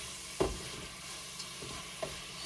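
Cucumbers and shrimps frying with garlic in a pan, with a faint steady sizzle broken by a few sharp stirring knocks and scrapes of a utensil, no voices.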